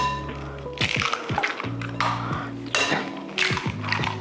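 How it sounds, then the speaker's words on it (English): Two eggs cracked into a bowl for chicken and waffle batter, with a few sharp, close cracks and a wet drop amid kitchen clatter over a low background hum. "And crack in 2 eggs."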